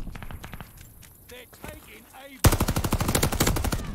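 Volkssturmgewehr rifle fire in the Call of Duty Vanguard video game, at first distant shots and footsteps, then a loud, rapid string of close gunshots in an even rhythm to the end.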